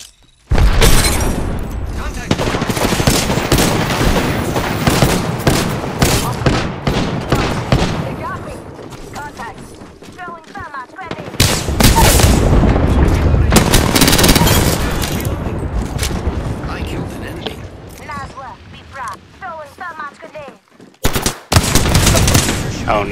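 Frag grenade thrown in a shooter game, followed by bursts of rapid gunfire and booming explosions in loud, dense stretches with brief pauses between them.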